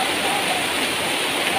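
Heavy rain pours down during a sudden flood, with high water rising, a steady broadband wash of falling water that stays loud and even throughout without a break.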